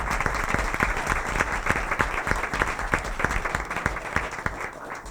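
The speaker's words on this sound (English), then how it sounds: "So a big round of applause for our second graders and our fifth graders." Audience clapping for second and fifth graders at a school board meeting, a dense run of distinct hand claps at even loudness, close and steady, with no voices over it.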